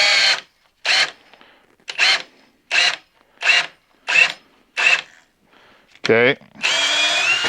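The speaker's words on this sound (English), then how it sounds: "So it's not the hammer drill, but it is the drill driver." A DeWalt XR drill driver at speed 2 runs in eight short, evenly spaced bursts, then one longer whirring run that drops in pitch, close and loud. A single brief spoken word comes near the end.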